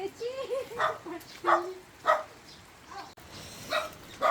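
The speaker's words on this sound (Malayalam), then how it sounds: "പട്ടിക്കുട്ടൻ." A puppy barks in short, sharp yaps spaced through the moment at a house in Ziro, in a Nishi tribal village of Northeast India, with rain falling and people talking nearby.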